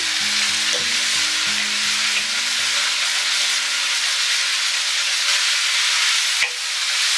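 Sliced celery hits a hot frying pan for cashew chicken on a stove at medium heat, producing a loud, steady sizzle that runs without a break, with one sharp clink near the end.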